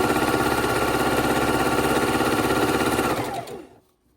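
A sewing machine runs in one steady, fast, close burst while stitching quilt patches into four-patch and flying-geese units, then slows and stops near the end.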